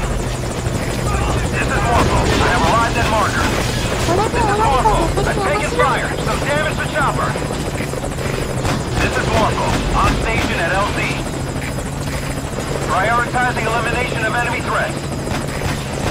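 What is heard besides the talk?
helicopter in video game Metal Gear Solid V Ground Zeroes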